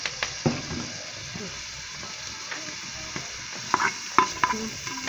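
Onion dropped into hot oil on a wood-fired stove gives a steady, close sizzling hiss, with scattered light clicks and knocks of a utensil against the pan throughout.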